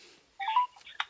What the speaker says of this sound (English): Ringing up Graeme Kenna.